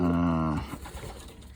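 A young pigeon in a competition loft gives a single brief, close coo that trails off into quieter rustling.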